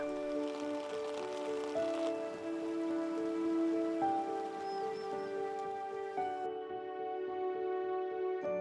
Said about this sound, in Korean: 대지를 적시고 생명을 보채는 봄비가 내립니다